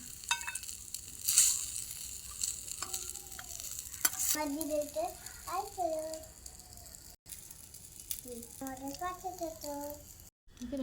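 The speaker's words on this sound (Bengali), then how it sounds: "ভালো করে নাড়াচাড়া করবো" Pasta stirred and sizzling in a small toy mini-kitchen pan, faint scraping and frying under a child's and an adult's voices talking close by.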